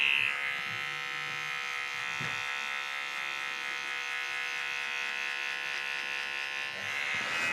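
Electric hair clippers run continuously while cutting hair in a barber's low fade with a textured top, a steady close buzz with slight changes in pitch as they pass through hair.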